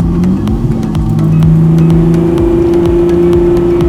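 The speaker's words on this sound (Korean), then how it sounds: "이 뒤에서 들려오는 엔진 사운드랑 요런 배기 사운드랑 이런 게 너무 되게 직관적으로 다 들려오거든요" A wide-body Porsche with air suspension rumbles steadily at close range, its low engine drone and exhaust note holding loud and continuous, with a rising pitch toward the middle.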